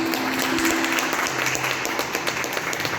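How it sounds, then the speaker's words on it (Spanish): Audience applause at a book presentation on veganism, a steady, dense round of clapping from a nearby crowd lasting a few seconds, with a low hum and faint murmur beneath it. "le brindamos un fuerte aplauso"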